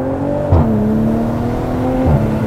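BMW 340i with a stage 2 tune revving, a loud close engine note holding a steady pitch that surges with two short blips of throttle, no voices.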